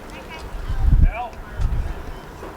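Wind gusting at an outdoor baseball game in central Wisconsin, buffeting the microphone with low rumbling swells, and a voice talking over it.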